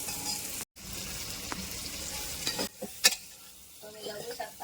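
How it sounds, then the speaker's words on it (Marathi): Prawns sautéed in a pressure cooker for biryani, a bright steady sizzle of frying with scraping stirs and a few sharp clinks of the spoon against the metal, close and without talk. "कोलंबी कुकरमध्ये घातली की हे थोडं असं परतवून घ्या"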